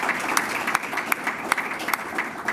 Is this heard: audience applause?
yes